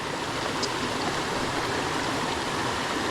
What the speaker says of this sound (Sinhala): වතුර පාරක සද්දයක් නම් ඇහෙනවා.